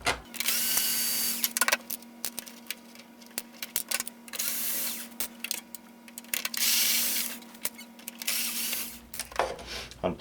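A power drill removing screws during a turbine repair, whirring in several steady bursts separated by short pauses, close and fairly loud, with a faint steady hum beneath.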